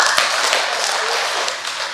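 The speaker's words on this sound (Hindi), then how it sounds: "3 बार बहुत जोर से ताली हो जाइए" A seated conference audience bursts into loud, continuous clapping with a few sharper hand strikes standing out; the sound is close, dense and steady throughout.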